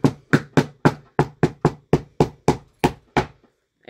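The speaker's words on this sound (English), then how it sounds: "you can use a hammer like I'm going to do over here and just hammer them" A hammer taps staples down into a small homemade mini ironing board, giving about a dozen sharp, evenly spaced knocks at close range with no talking.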